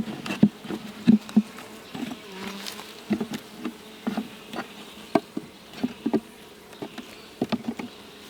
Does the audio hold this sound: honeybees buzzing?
yes